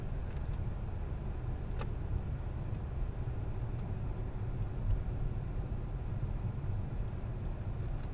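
A car travels along Clinton Road in New Jersey, a remote wooded route, giving a steady low road and engine rumble from inside the cabin that holds at a constant level throughout, with no talking.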